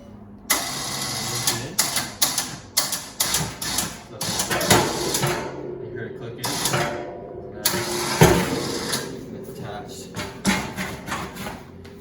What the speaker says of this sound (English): And then you're just going to turn the bike on so you can use the winch.